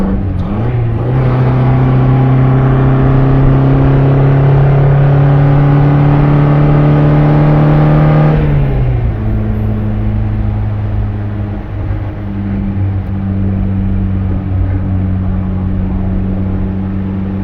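1959 MGA Twin Cam sports car cruising at about 50 to 55 mph, heard from inside as a loud steady engine drone with a gear change partway through, then settling to a lower pitch.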